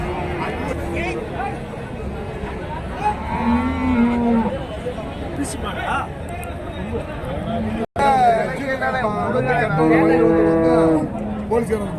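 Cattle at a Karimangalam market in Dharmapuri district moo repeatedly, loud and close, their long calls rising over a busy babble of people talking nearby.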